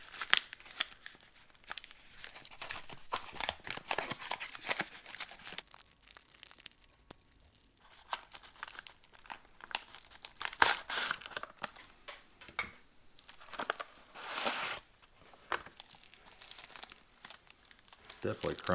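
Crinkling and tearing of old Soviet Red Army ration packaging from 1939-1945, continuous papery rustles and rips handled up close, with a person talking quietly at times.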